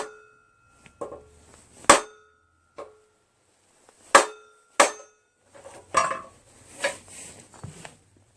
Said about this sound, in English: I've got the crowbar underneath.